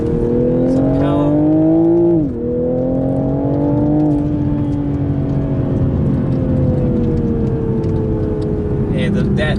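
A 2021 Toyota GR Supra GTS engine pulls hard, its harmonic drone rising through the revs, dipping briefly at a shift, then climbing steadily again, loud and close from inside the car with a voice talking over it.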